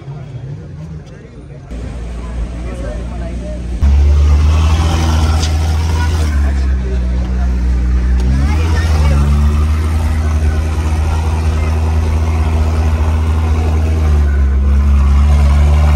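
A Ferrari at a cars and coffee meet-up in Hyderabad, its engine a steady loud low rumble that swells after a few seconds and holds, with voices talking over it.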